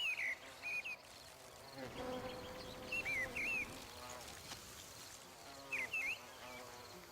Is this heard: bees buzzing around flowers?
yes